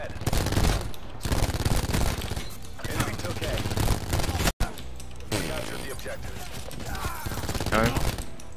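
Rapid automatic gunfire from the Spitfire weapon in the shooter game Call of Duty Black Ops 4, dense bursts of loud shots running nearly throughout with a short gap midway, and a voice talking beneath.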